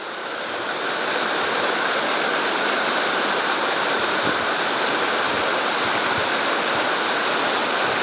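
The Bout du Monde waterfall roars as a dense, steady rush of falling water, loud and close, building in over the first second and then holding constant with no talk.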